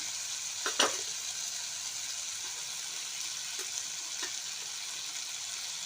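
Ground spices and a little turmeric hit a hot pan of softened tomato, a steady bright hiss of frying with a couple of spoon knocks and stirring clicks, close and unaccompanied by speech.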